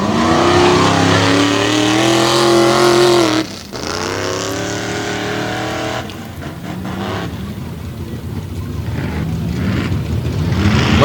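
Modified four-wheel drive trucks, including a Grand Cherokee in the stock class, race at a Windsor, Pennsylvania Tuff Trucks event, with loud engines revving hard and close, then dropping off briefly before building again into a throaty roar.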